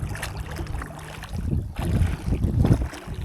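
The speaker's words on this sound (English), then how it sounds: "That little wind is making it hard for me to move around here." Gusty wind blowing across a lake around a kayak, buffeting and rumbling close to the microphone in uneven surges over a few seconds, with faint water sounds beneath.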